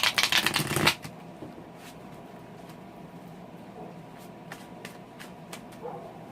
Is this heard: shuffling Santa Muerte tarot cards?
yes